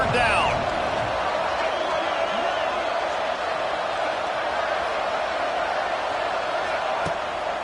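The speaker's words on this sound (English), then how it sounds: "Crowd getting this defense whipped up on 3rd down" Football stadium crowd roaring on third down during league play, a steady loud wash of cheering that holds the whole time with faint whistles near the start.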